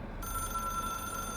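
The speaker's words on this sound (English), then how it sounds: "It is a phone." A telephone rings in the video game Control, an astral hotline phone giving a steady electronic tone that is sustained, clear and alone over a low background.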